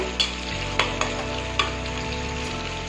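Onions fry in a pan for a soft, light cook, hissing in a steady sizzle while a utensil stirs them with several distinct scraping clicks.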